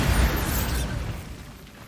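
Bombarda blasting spell detonating in Hogwarts Legacy, a loud broadband boom that rolls off into a fading rumble over two seconds.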